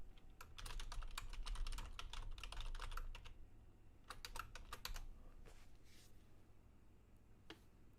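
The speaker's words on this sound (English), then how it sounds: "Let me type this in the chat." Quiet typing on a computer keyboard indoors, bursts of rapid, crisp key clicks separated by short pauses, ending with a few isolated taps, faint and close with no talking.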